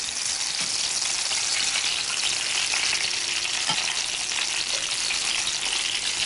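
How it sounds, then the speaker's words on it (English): Tuna searing in a hot frying pan, a steady, loud, close sizzle that holds evenly with faint crackles and no voices. "Oh, these are searing up nicely."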